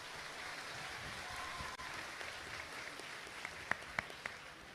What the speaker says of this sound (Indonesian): Tepuk tangan nih buat Miftah